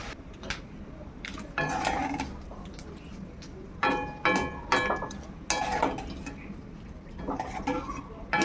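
Potatoes frying in hot oil while being stirred in a pan, with repeated scraping and clinking of a utensil against the pan in short bursts over a steady sizzle.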